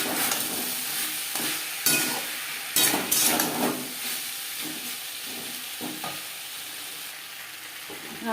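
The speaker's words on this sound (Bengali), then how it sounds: "ডাঁটার সাথে মশলা ও টমেটো বেশ ভালো করে মিক্স করে দেবো।" Vegetable stems with ground spices and tomato sizzle steadily in a pan while a utensil stirs and scrapes through them. Loud, continuous frying carries sharp metallic scrapes scattered throughout.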